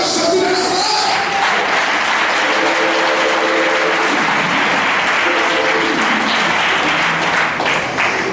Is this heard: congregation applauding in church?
yes